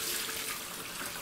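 Homemade vegetable broth is poured from a pot through a strainer into a large container, a steady close splashing rush of liquid with a continuous hiss and no talk.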